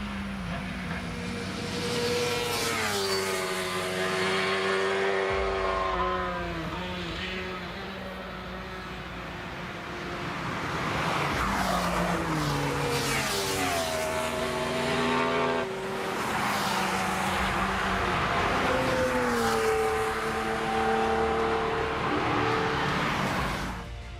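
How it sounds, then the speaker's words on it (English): High-speed motorcycles on the Nürburgring roaring past one after another, engines whining up and down in pitch as they fly by, loud and near. "bikers flying by at insane speeds, even defeating race cars"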